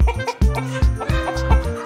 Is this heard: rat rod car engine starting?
no